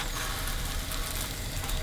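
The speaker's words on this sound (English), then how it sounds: "that's the last of our dhal puri in the pan" Dhal puri frying in a pan over gentle heat, giving a steady, dense sizzle that runs unbroken at an even level with no voices.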